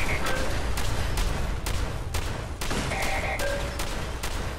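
A turret bot in Fallout 4 fires a rapid, loud barrage of gunshots in regular bursts, with sharp repeated bangs and a few electronic beeps mixed in during the shooting.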